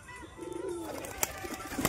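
Pigeons cooing softly at home, low throaty coos rolling under a few sharp clicks and flutters, close by and fairly quiet.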